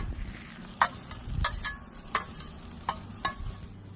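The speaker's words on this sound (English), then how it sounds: "Now we're gonna throw those onions on there." Onions frying in vegetable oil on a Blackstone griddle give a steady soft sizzle, broken by several sharp scraping and tapping accents from a spatula spreading them, fairly close and moderately loud.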